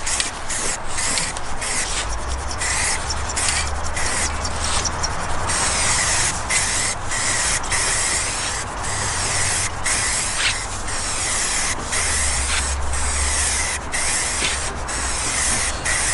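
A car, a stanced MR2, takes its first coat of spray paint, giving a steady broad hiss with rhythmic pauses as the gun trigger cycles on and off, close and loud throughout.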